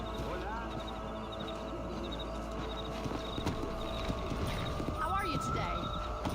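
Horse hooves clip-clop at a steady trot in the Red Dead Redemption video game, a quiet rhythmic patter under a voice and soft outdoor ambience.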